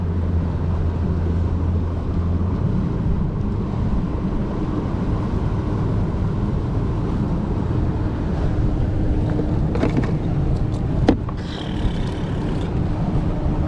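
Strong wind on a lake roars steadily and loudly across the microphone during fishing, with a low rumble throughout and a few brief knocks and rattles near the end.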